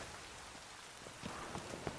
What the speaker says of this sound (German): Schon wieder Regen, verdammter Regen.